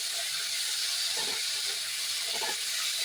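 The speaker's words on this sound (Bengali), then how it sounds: "আমি এবার এই যে আদা পেঁয়াজ রসুন বাটা বেটে রেখেছি, এইগুলো এই 2 চামচ এতে দিয়ে দিলাম। দিয়ে আমি কষাতে থাকবো।" Ginger, onion and garlic paste frying in a pan, a steady loud broadband sizzle close by, with a couple of brief stirring scrapes partway through and no voices.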